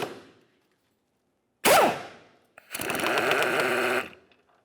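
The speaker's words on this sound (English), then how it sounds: "remove our 2 14mm headed mounting bolts" Ratchet loosening two 14mm control arm mounting bolts under a 2006-2011 Honda Civic: a sharp metallic clank, then a steady rapid clicking run lasting over a second, close and alone.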